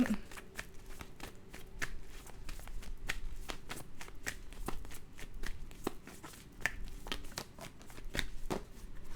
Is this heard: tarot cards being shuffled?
yes